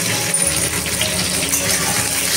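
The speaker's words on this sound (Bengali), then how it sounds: "উপর থেকে ছড়িয়ে দেবো নুন" Salt sprinkled over pointed gourd (potol) slices frying slowly in a pan on low heat: a steady, close sizzle with faint granular pattering running through it, no voices.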